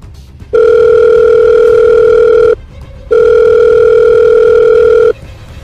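A telephone rings loudly in two long, steady electronic tones separated by a short gap, and nobody picks up.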